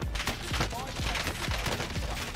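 Rapid bursts of automatic gunfire from a first-person shooter video game, with repeated sharp shots in a steady rhythm at moderate loudness and some faint talk mixed in.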